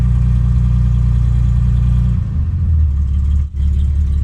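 A Jaguar XJ6 engine idles roughly with a steady, lumpy low rumble, heard up close and alone, its tone dipping briefly partway through.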